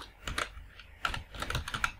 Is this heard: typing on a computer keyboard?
yes